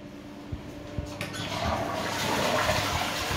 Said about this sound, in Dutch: toilet.